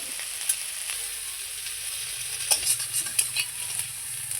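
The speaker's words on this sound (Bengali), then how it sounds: "আমার নিম পাতা ভাজা হয়ে গেছে। এবার আমি নামিয়ে নেব।" Neem leaves fry in a pan with a steady, high sizzle while a utensil stirs them, adding a few scraping clicks near the end; no one speaks.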